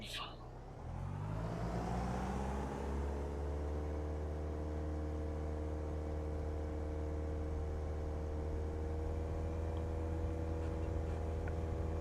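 Cessna 172 piston engine spun up to full takeoff power in a flight simulator, a loud steady drone with strong harmonic hum that swells in the first second and then holds constant, with a pilot talking over it.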